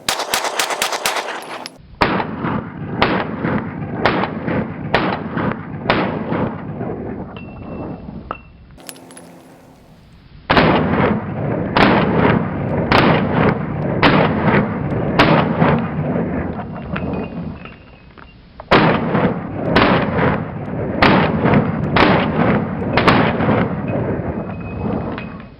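Smith & Wesson M&P pistols fire in three loud, close strings of evenly spaced shots, each string of about five rounds separated by brief pauses.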